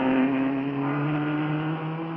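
Stirling Moss's race car roars past the grandstand straight while leading alone, a loud, steady engine note with strong harmonics that holds on and bends slightly in pitch as it passes close by.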